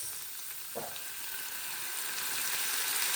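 Paneer fries in a pan as soy sauce goes in, a bright, hissing sizzle that swells steadily louder, with a brief clatter near the start.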